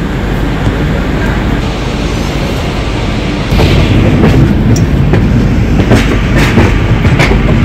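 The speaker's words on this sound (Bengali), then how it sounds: "তো ট্রেন চাললো ঠিক ভোর 5:41-এ।" The Kolkata Agartala Special passenger train running, heard from inside a 3AC coach as a loud continuous rumble that grows heavier partway through, with rhythmic clickety-clack of wheels over rail joints.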